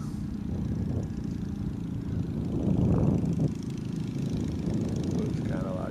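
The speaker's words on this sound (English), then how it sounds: "That sounds like a small tractor." A small John Deere tractor engine chugs steadily at a low, rough idle, nearby and continuous, with voices faintly talking over it.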